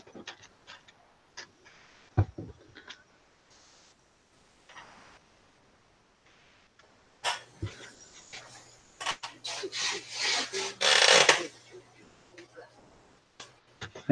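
Rubbing over paper creases on a journal page, a soft dry scraping that builds into a denser burst of rasping strokes near the end, with scattered taps and handling noises and someone speaking between them.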